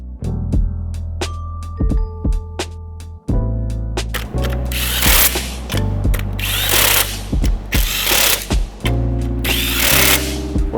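A hand ratchet and power tool working on engine mount bolts of a Toyota V8 swap torqued to 65 foot-pounds, heard as close, loud bursts of rattling and clicking with sharp mechanical taps and pauses between runs.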